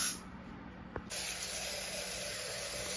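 A pressure cooker cooking moong dal for payasam lets off a steady, faint steam hiss that jumps up in strength after a brief click about a second in, then holds constant.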